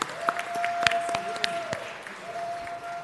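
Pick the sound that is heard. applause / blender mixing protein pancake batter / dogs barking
applause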